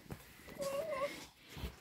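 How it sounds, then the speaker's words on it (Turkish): A mother cat meows once or twice in a village barn where she is nursing four kittens. The cry is soft and fairly distant, over quiet ambient noise. "Kedi var burada."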